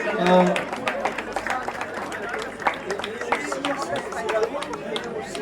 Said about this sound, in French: On applaudit la première équipe